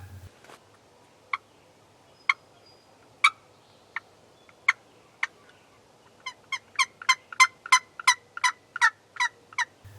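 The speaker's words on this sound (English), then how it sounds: "You could hear gobbles and chirps in multiple areas" Wild turkeys gobble and chirp outdoors, sharp isolated calls spaced a second or so apart early on, then a rapid run of loud repeated gobbling notes near the end, fairly close with a quiet background.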